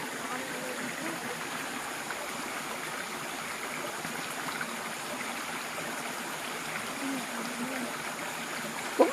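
Steady broadband rush of a forest stream flowing over rocks, continuous and even throughout, with a small splash near the end.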